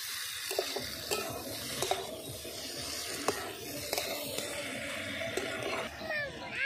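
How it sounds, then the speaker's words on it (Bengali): Egg soybean curry being stirred in a pan, a spoon scraping and clinking steadily with a soft sizzle beneath, close and moderately loud, with no talking. "ভালো করে নেড়ে চেড়ে নিয়েছি"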